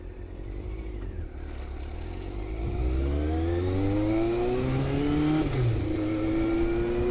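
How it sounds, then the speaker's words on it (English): A 1988 Yamaha FZR400 EXUP motorcycle engine idles steadily, then revs up loudly in rising and falling sweeps, close by and with no other sounds. "So I got the bike started and nicely warmed up, ready to go."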